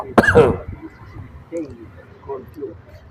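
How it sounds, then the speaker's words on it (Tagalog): A sharp, loud cough bursts out at the start, followed by quieter throaty sounds and a few soft murmurs. "Inuubo-ubo pa ako."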